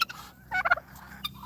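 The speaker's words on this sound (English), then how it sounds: "I know y'all can hear Goose as usual. He or she always has something to say" A farm bird on a homestead gobbles in a quick, close burst of rapid calls, brief and distinct over a quiet background.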